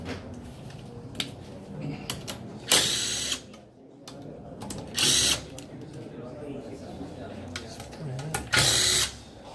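A power tool backs bolts out of a CVT transmission during a workshop seminar, firing in several short, loud bursts between quieter mechanical clicks and a voice talking in the background.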